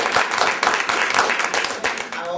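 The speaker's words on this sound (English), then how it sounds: "Let's have a round of applause for our officers." Steady applause from a crowd, dense and continuous clapping throughout with a few voices mixed in.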